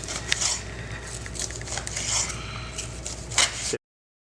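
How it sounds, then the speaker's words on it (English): A knife slices through a rested grilled turkey breast on a board, a run of close crisp scraping cuts and light knocks, ending abruptly in silence. "So now we're going to slice our turkey after it's been rested."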